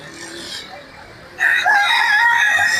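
A country rooster crows loudly and close by at a market selling country chickens. The strong drawn-out call starts partway through, after a quieter stretch of background bustle.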